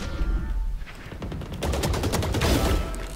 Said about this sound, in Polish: I mi strzały lecą